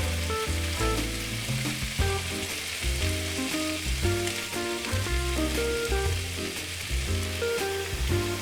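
Garlic sizzles in a pan while being stirred, with salt and pepper added, in a one-pan braised beef shank preparation. A dense, continuous close frying hiss runs under a steady low hum, with no talking.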